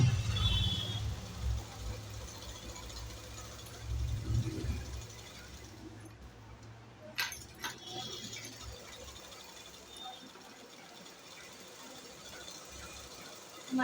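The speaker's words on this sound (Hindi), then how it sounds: "अभी हम इसके किनारे किनारे यहाँ पर भी सिलाई लगा देंगे।" A sewing machine stitches along the edge of a padded lehenga blouse sleeve, giving off a steady mechanical whir with a ratcheting rattle that comes and goes, with one short louder burst in the middle.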